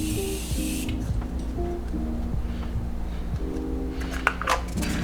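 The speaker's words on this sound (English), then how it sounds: "I love this Morphe Continuous Setting Mist" Several short pumps of a Morphe Continuous Setting Mist bottle, a fine steady hissing spray that runs almost continuously, close to the mic with no talking.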